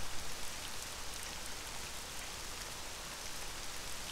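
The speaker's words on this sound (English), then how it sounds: "It is still raining." Rain falling in the theme-park game RollerCoaster Tycoon 3, a steady, dense hiss of drops on surfaces, moderately loud and unbroken throughout with no talk.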